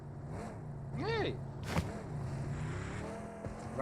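A car engine revving and tires skidding in a battle royale video game, with an engine sweep and a sharp impact thud amid game noise.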